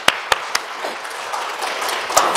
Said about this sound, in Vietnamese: Hãy vỗ tay cảm tạ được Chúa Trời.